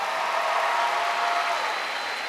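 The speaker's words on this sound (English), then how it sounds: "Give me a big hand clap." Conference audience at a state convention keynote clapping together, a brief, steady wash of applause at moderate level.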